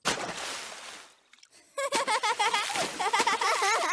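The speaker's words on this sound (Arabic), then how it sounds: "ليس عليك رش كل هذا الماء" Water splashes in a cartoon swimming pool, a short burst of splashing and sloshing at the start before a pause, followed by light bubbly, trickling water sounds.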